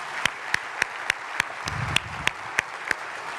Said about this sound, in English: Another round of applause for Alan.